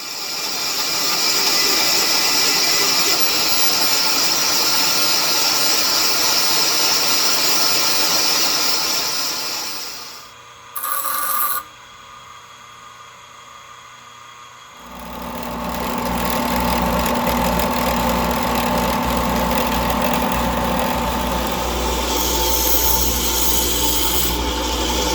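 A power tool grinds down a thin half-inch wrench, giving a long, loud, harsh abrasive whine. It stops for several seconds, leaving a short burst and a quiet pause, then the motor spins back up and grinding resumes.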